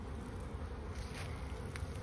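Honeybees hum and buzz steadily around an opened hive during a calm, slow inspection, a close, continuous drone with individual bees passing near, and no talk.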